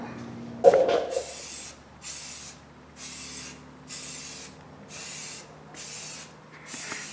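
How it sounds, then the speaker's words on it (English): Close hissing bursts of aerosol spray paint on a car frame in a steady rhythm, about seven sprays each lasting under a second, with a clunk at the start. "We're just going to do a quick once-over spray bomb on this frame"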